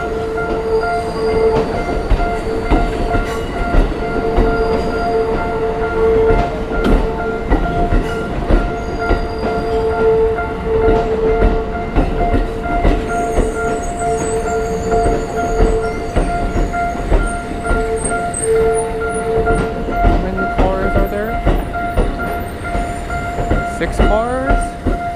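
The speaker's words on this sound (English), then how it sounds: "the train came right away, which is unexpected" A Tokyo Metro Ginza Line subway train, six cars, rumbles past a level crossing with rhythmic clacking wheels and metallic squeals, loud and close, under faint background voices, with tonal hums throughout.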